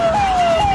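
An ambulance siren wails with a steady high electronic tone, loud and close, heard alone without talk.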